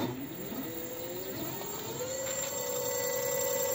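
An e-bike's electric motor whirs steadily after the throttle is applied, its rising tonal whine climbing in pitch and holding, fairly quiet with no talking.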